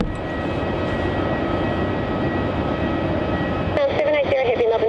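An airplane arriving at Melbourne Airport gives a steady, broad engine roar throughout, and a radio-like voice cuts in near the end.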